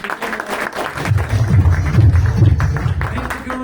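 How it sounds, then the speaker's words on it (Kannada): Applause from an audience at a farmers' product demonstration event, a dense steady wash of clapping that swells after the first second and holds loud and close to the end. "ಚಪ್ಪಾಳೆ ಆಗ್ಬೇಕು ಅವರು"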